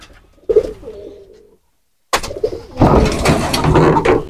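A powerful male Mukhi breed pigeon coos while turning in circles inside a pigeon loft, its low throaty coos coming close and clear, then joined by a dense, louder burst of cooing and fluttery bird noise.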